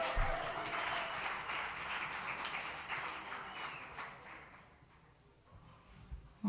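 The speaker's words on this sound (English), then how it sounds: "So a big round of applause for their support and for Omni." An audience at a live event near WWDC 2026 applauds steadily for several seconds, a fairly soft, diffuse patter of many hands that thins out toward the end.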